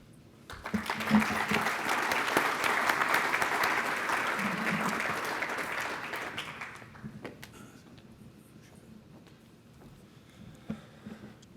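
A conference audience at a tech expo breaks into warm applause to welcome a speaker, the clapping rising quickly, holding steady for several seconds, then tapering off into a quiet room with a few stray claps.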